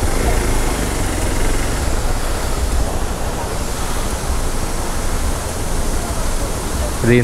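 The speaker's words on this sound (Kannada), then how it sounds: "ಇಲ್ಲಿ ಅಬ್ಬಿಕೊಲ್ಲಿ ಫಾಲ್ಸ್ ನೋಡಿ, ಎಷ್ಟು ಸುಂದರವಾಗಿ ಉಂಟಲ್ಲ" Steady, dense roar of rushing water from Abbi Kolli waterfall fills the whole stretch, unbroken and fairly loud, with a faint voice at the very end.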